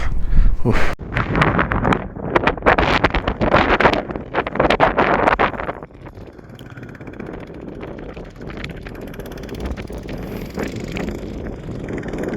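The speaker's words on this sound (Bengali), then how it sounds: "পাশে প্রচণ্ড হাওয়া দিচ্ছে এবং প্রচুর ঠান্ডা" Heavy wind on the high Khardung La mountain pass in Ladakh buffets the microphone in loud, roaring gusts, then settles into a steadier, lower rush of blowing air.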